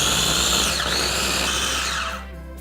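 A KitchenAid stand mixer whips coconut cream with a loud, steady high-pitched motor whine whose pitch wavers, then winds down and fades near the end.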